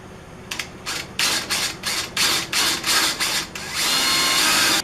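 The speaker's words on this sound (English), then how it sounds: "Let's drill." A power drill works on a small bolt on a Char-Broil barbecue grill, whirring in a series of short close bursts, then one longer continuous run at the end.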